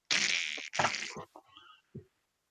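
A fart sound effect plays with two long, buzzy, raspy blasts up close, followed by a couple of short sputtering pops that trail off into silence.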